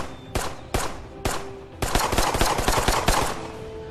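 Gunfire in the roleplay video game Identity: a few separate sharp shots, then a rapid burst of cracking rounds, loud and close with a steady low game ambience beneath.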